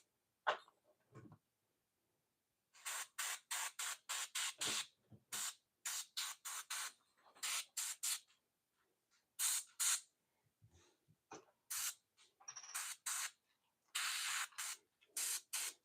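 An airbrush sprays paint onto miniature model bases in repeated short bursts of hissing air, with brief pauses between each spray.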